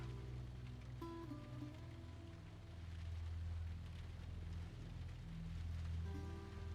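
Rain falls in The Last of Us, a soft, steady patter with a low rumbling bed and faint musical tones drifting over it, quiet and continuous with no voices.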